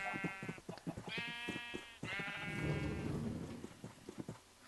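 Minecraft sheep bleat in a sheep farm, several clear wavering bleats in turn, moderately close, over soft rain-like background hiss and a scattering of clicks.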